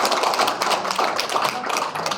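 Audience applause at a detox and fasting seminar, a steady close patter of many hands clapping throughout the short stretch, no voices over it.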